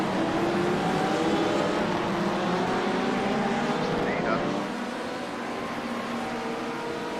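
LMP prototype race car engines roaring in a racing video game, a loud continuous engine drone that eases off slightly near the end.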